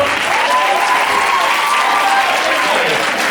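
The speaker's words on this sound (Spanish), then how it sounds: "aplauso" A crowd at a Christmas show gives sustained, loud applause, a dense even wash of clapping with no pauses, heard from within the audience.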